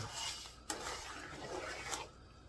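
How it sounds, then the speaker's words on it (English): Jam and sugar stirred in a pot, a spoon rasping and scraping against the metal with a couple of sharp clinks, quiet and close, with no talk. "Make sure you stir it quite often."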